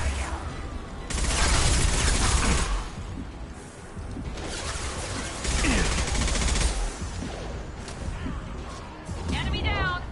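Gunfire in the shooter game Mass Effect comes in loud, sustained bursts with crashes and whooshes between them, with in-game voices calling out over the fighting.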